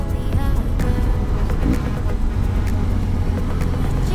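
A car engine rumbles loudly and steadily nearby on a small road in Greece, a continuous low drone as the vehicle passes with no voices.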